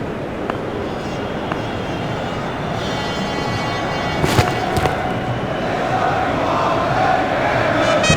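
A cricket crowd at a South Africa vs New Zealand T20 match roars in a steady wash of cheering after a boundary four races to the fence, with a few sharper bursts and claps rising midway.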